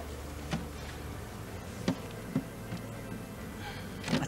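Honeybees buzz in a low, steady drone around a honeycomb frame as they are brushed off, with a few soft ticks and knocks.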